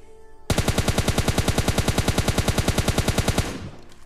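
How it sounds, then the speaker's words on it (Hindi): Rapid automatic gunfire in the battle royale game PUBG Lite, a loud, fast, evenly spaced burst of shots lasting about three seconds before it stops abruptly. "अब सामने से कुछ गन साउंड्स वगैरह आ रहे थे मेरे को"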